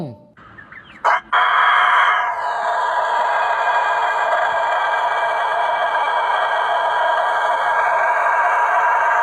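A rooster crows in one very long, drawn-out call, loud and close, holding a steady tone for many seconds after a brief start.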